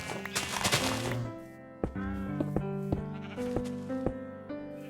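Several sheep bleat in Minecraft, a run of quavering wavering cries and shorter bleats against a background of game music.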